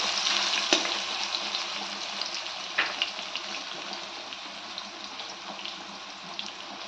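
Steady broadband sizzle of potatoes frying in hot oil, with a few sharp clinks of a utensil against the pan.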